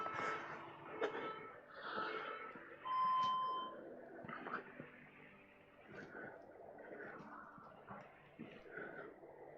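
A Smart WOD Timer app gives a short electronic interval beep during a strength and conditioning class, with people talking and moving around it.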